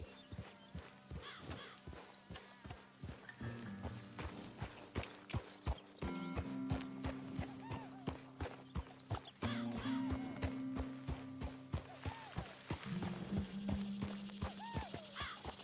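Horse hooves clip-clop steadily at a walking pace in Red Dead Redemption 2, with a dead coyote slung over the saddle, the rhythmic thuds prominent over game music and ambient tones.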